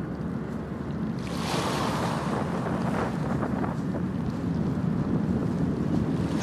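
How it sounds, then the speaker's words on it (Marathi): Gentle sea waves wash steadily onto a shallow beach at sunset on the Dapoli coast. The surf is continuous and broad, with a soft swell of water building after the first second and heavy wind rumble underneath. "हलक्या हलक्या लाटा जवळ येत आहेत."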